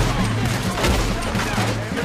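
Gunfire in Red Dead Redemption 2 during a train shootout, with shots cracking over a steady rumbling bed and speech-like game noise layered in.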